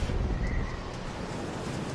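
Giant ocean waves roar as a broad, continuous rumbling surf with a wind-like hiss, loudest at the start and then holding steady, with no voices.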